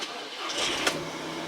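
A rebuilt Audi TT engine cranks and fires for a first road test, a short starter whir rising into a catch and settling toward a low idle, close by with no voices.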